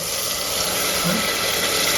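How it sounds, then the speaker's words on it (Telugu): Water is poured steadily into a cooking pot holding rice and fried spices for a tomato and mint pulao, a continuous close splashing rush with no pauses. "మేము తీసుకున్న బియ్యానికి సరిపడా నీళ్ళు పోసుకుంటాం"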